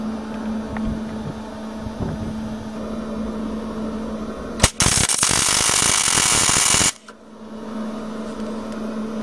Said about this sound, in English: So I set my welder to maximum 130 amps. And I'm ready to weld some bead right there.